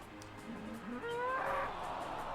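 A cow in the video game Ys IX gives a short rising moo, fairly faint and alone over a soft ambient background.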